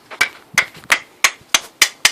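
A hammer taps the back of a Japanese hand plane body to loosen the blade, giving seven sharp, evenly spaced knocks close up with brief silence between each strike.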